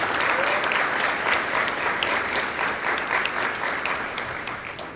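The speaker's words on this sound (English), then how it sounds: "let's give him a great round of applause" A crowd at a high school football banquet applauds steadily for several seconds, dense clapping that slowly tapers in loudness toward the end.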